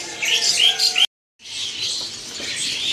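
Caged birds chirp and twitter at a bird-shop kiosk in the Pramuka bird market: many overlapping high, rapid calls, close and bright, briefly cut to silence partway, then resuming as a busy chorus.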